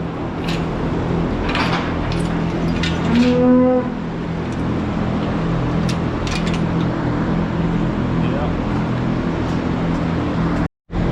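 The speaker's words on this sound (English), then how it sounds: "We just pushed those cows out." Dairy cows moo in a barn at a dairy farm during hoof trimming, one long low moo standing out near the start over steady fan hum and faint barn clatter.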